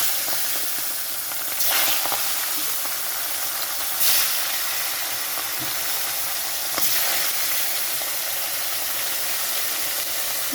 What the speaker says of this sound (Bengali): কড়াইতে সর্ষের তেল দিয়েছি, তেলটা গরম হয়েছে, তো মাছটা আমি হালকা করে একটু তেলের মধ্যে ভেজে নেব।